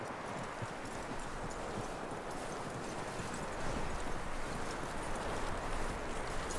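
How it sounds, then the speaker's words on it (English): Horse hooves clip-clop steadily in Red Dead Redemption 2, a continuous trotting rhythm set against a dense wash of outdoor game ambience, with no voices and the hoofbeats growing slightly louder toward the end. "That looks like a decent horse."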